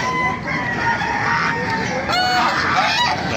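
At a Baliuag livestock market, many geese and turkeys honk and gobble together in a dense, continuous chorus of overlapping calls close by.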